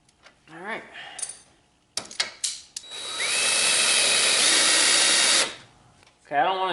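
Power drill whirring into a mount during a mud mower transaxle relocation, a loud sustained close drilling run of a couple of seconds after some short clicks and handling noises, then a voice afterward.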